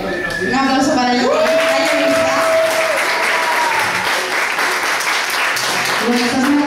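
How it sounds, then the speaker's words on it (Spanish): An audience at a live music performance applauds steadily and loudly, with a voice speaking or singing over the clapping early on before it fades into the continuous applause. "Un aplauso para él"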